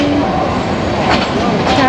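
Inside a moving passenger train, a steady loud rumble of the carriage fills the space, with faint rail clatter and brief squeals over the continuous noise.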